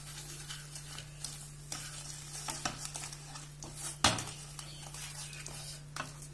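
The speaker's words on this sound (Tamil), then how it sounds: "சர்க்கரையை போட்டு கொஞ்சம் அடிபிடிக்காம கிண்டி விட்டுக்கிட்டே இருக்கணுங்க" Sugar being stirred into badam halwa in a pan, a soft low sizzle with scraping spoon strokes and a sharp clink of metal on the pan, a steady hum underneath.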